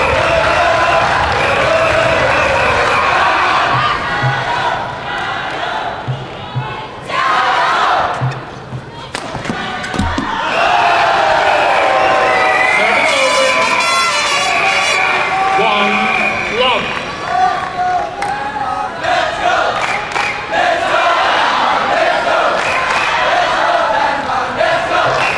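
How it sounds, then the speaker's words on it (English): Supporters, including national junior squads, cheering at the 2005 All England men's doubles badminton final between Cai Yun and Fu Haifeng and Jonas Rasmussen and Lars Paaske; sustained loud indoor crowd noise with shouts, dipping briefly before swelling again. "National junior squads all here in force to support and cheer on."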